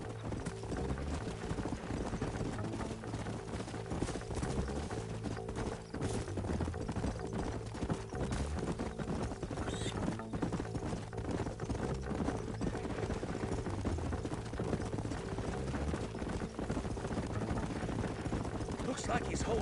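Rapid rhythmic clip-clop of galloping horse hooves in the game Red Dead Redemption, continuous and steady under a layer of music and ambient game sound, with a voice speaking over it.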